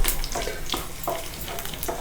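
Cumin, mustard seeds, chana dal, urad dal, garlic and dried chillies crackle and sizzle in hot oil for tempering, a close, continuous frying hiss broken by sharp spattering pops and the scrape of stirring.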